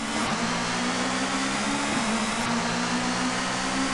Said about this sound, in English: I love the fact you can hear all the engine noises in the background as well.